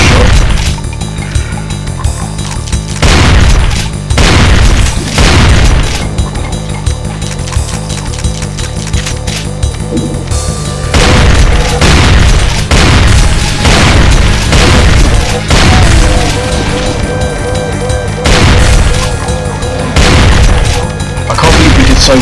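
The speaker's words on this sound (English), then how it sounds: "That was a shot." Loud, repeated gunshots and booming explosions from the video game Brutal Doom come in rapid bursts that overlap one another in a dense, continuous barrage.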